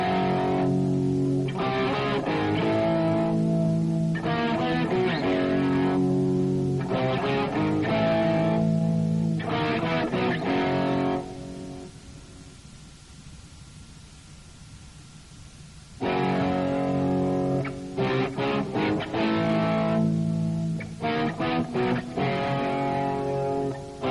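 Distorted electric guitar riff played up close in repeated rhythmic phrases, pausing for a few seconds mid-way before the riff resumes, with no talking.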